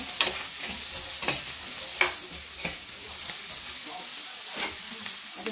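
Squash and other vegetables are stirred in a frying pan with fish nearby: repeated spatula scrapes and clicks over a steady low sizzle, close and moderately quiet, with no voices.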